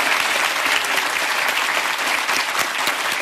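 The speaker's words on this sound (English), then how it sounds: "I could give him a big round of applause" Studio audience applause on a quiz show, a dense steady wash of many hands clapping throughout, fairly loud and continuous with no break.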